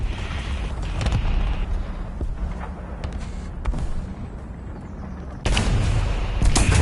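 Tank cannon fire from an Archer tank in War Thunder: a few heavy, booming shots over a steady engine and battle rumble, with a loud blast near the end.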